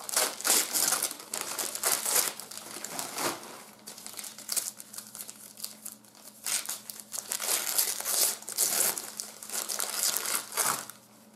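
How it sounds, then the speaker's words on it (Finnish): Christmas wrapping paper is crumpled and stuffed into a plastic bag, giving dense, continuous crinkling and rustling close by for several seconds, with no talk. "että nää joulupaperit saa suoraan tähän muovipussiin laittaa"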